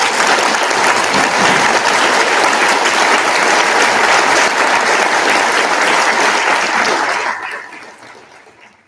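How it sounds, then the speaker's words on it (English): A school Veterans Day assembly audience gives a strong, dense round of applause that holds steady for about seven seconds, then thins out and fades to quiet. "And I think they need a strong round of applause."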